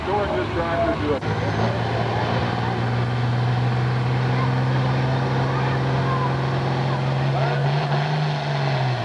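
Antique restored tractor running at the 2003 Charlestown, Indiana tractor pull, a loud continuous engine drone with a steady rising pitch that climbs gradually over several seconds, with an announcer talking over it.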